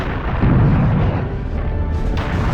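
Cannon fire in the video game Serious Sam: a heavy, booming blast with a dense low-end rumble, loud and close, over continuous in-game noise.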